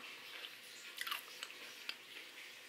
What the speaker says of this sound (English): I'm just gonna go ahead and devour these chips and cheese dip